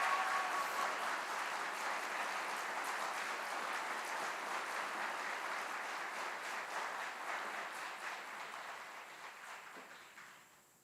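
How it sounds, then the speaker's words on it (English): Applause for drill sergeants and instructors at an Army aviation graduation ceremony: a steady, fairly distant crowd clapping that slowly fades out. "Please join us in giving a round of applause to these outstanding drill sergeants and instructors."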